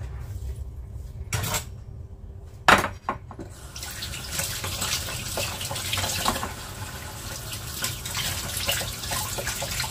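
Tap water runs into a sink while dried red and white beans, foxnuts, dried ginger and brown dates are rinsed, a steady splashing gush with a few knocks of a bowl, close and without speech.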